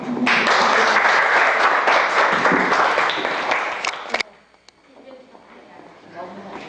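An audience claps after a presentation in a lecture setting, loud dense applause for about four seconds that stops abruptly, followed by quieter room sound and a brief voice.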